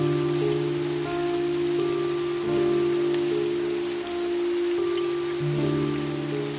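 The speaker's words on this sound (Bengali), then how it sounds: "অদৃশ্য বৃষ্টির শব্দ ছাড়া কিছুই নেই।" Steady rain pours down around a deserted bus stand in a Bengali horror cartoon, a continuous even hiss heard alongside a sustained droning musical tone that rises and falls in layers.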